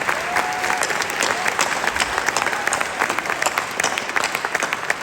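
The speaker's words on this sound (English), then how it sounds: "Let's honor them, the family and friends of our graduates, with an enthusiastic round of applause." A graduation crowd at UC Berkeley applauds the families and friends of graduates, a broad, steady wash of many clapping hands from a large audience, sustained without a break.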